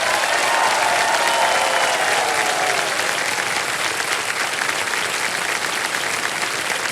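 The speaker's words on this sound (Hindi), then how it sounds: "ताली बजती रहे क्योंकि अब चेक आने वाला है इनके नाम।" A studio audience on the Indian TV quiz show Kaun Banega Crorepati, season 17, gives loud, sustained applause that stays steady for the full seven seconds with no talk over it.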